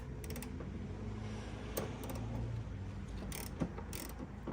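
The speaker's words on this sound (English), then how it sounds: "We've got our lovely good old king chrome ratchet, and we're going to put this on and we're going to take them off" An old chrome ratchet being used to undo bolts while fitting a fire extinguisher kit to a Mitsubishi Pajero, faint metallic clicks and short bursts of ratcheting in a quiet workshop, with no talking.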